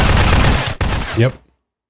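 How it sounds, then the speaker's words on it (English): Shotgun blasts and incoming fire in Zero Sievert, a Chernobyl-punk pixel survival shooter, with dense loud close gunfire, a short gap, then a final burst before sudden silence. "I missed somehow with a shotgun at point blank range, and I was instantly shredded to pieces."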